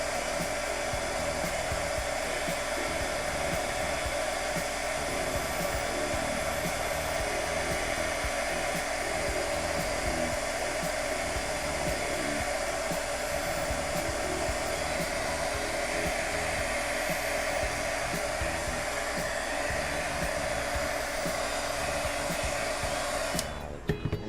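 A hair dryer blows steadily, drying Distress marker ink on pre-embossed paper. It is a loud, continuous whir heard close up and alone, cutting off right at the end.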